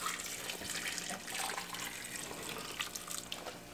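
Wine pours into a pot while short ribs are cooked for pressure cooking with potatoes, a soft, steady splashing stream heard close, with nobody talking.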